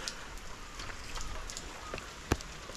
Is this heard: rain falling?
yes